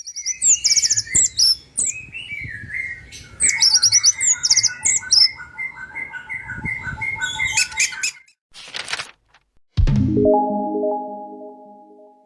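Orange-headed thrush (anis merah) singing a varied run of clear whistles, trills and rapid chirps, close and fairly loud, then a few scratchy notes and a lower buzzy call at the end.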